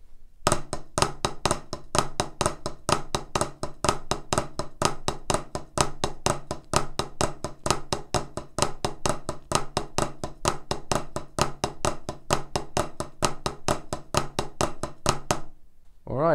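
Fast drum flam and double-stroke pattern played as a warm-up, a dense, even stream of crisp close-up hits that runs unbroken for about fifteen seconds, then stops abruptly.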